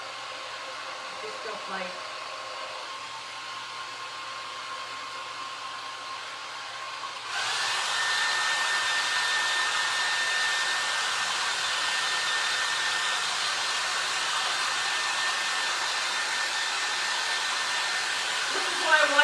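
A hair dryer blows on a freshly painted wooden spindle craft, first on a lower setting, then switching to a louder, steady high roar that runs to the end, with a person briefly talking over it.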